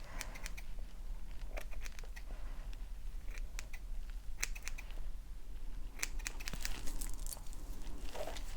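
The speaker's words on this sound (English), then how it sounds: "now I'm just gonna go in and just really shape the cut around the eyes" Scissors trim a wig's hair around the eyes in a series of crisp, close snips, sometimes singly and sometimes in quick clusters, quiet and steady, with no talking.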